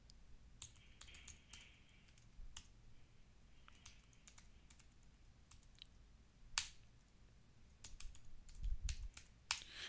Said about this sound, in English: So I type in the IRI.